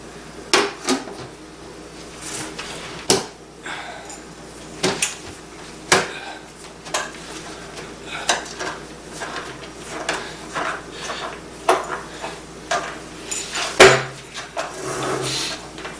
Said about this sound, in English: Now we're going to go ahead and put on the lid.